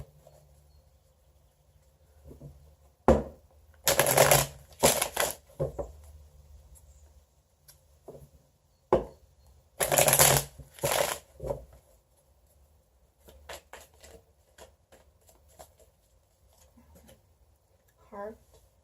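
Tarot cards are shuffled in a few short bursts of riffling, separated by quiet pauses and scattered handling noises, close to the listener, during a Libra tarot reading.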